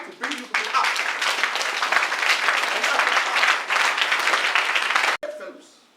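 An audience at a community literary event in Ketu South breaks into applause, a dense, close burst of many hands clapping that swells quickly, holds for several seconds, then cuts off abruptly with a brief fading tail.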